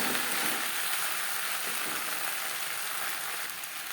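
Cauliflower stems frying in a pan over a high-to-medium gas flame for a vegetarian Bengali chochori, giving a steady, close, hissing sizzle with faint scraping from stirring and no talk.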